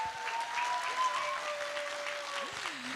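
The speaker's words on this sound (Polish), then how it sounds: "Zróbmy, słuchajcie, takie brawa dla wszystkich dzisiejszych uczestników, dobra?" A festival audience applauds the participants in a short, fairly faint burst of clapping, with a thin tone running through it.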